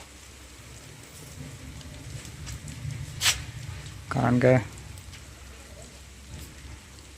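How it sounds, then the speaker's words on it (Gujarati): Light rain falls in small, sparse drops during a rainy day in rural Gujarat, a soft steady patter under nearby talking, with a few brief louder sounds. "ઠંડો વરસાદ નહીં પડતો ખાલી છોટા છોટા પડીને બંધ થઈ જાય છે"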